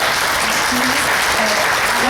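An audience claps in thanks to author Benito Taibo and Carla Robles at a book event, a loud, continuous wash of applause with faint murmuring underneath.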